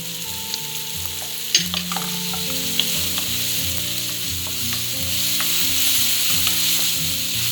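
Lady's fingers (okra) stir-frying in a pan, a steady close sizzle with scattered clicks and scrapes of stirring, while a tonal musical background runs beneath and no one speaks.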